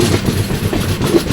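Duronto Express first-class AC coach rolling along the Konkan Railway, a steady close rumble of wheels and carriage with faint rhythmic clatter throughout, no voices.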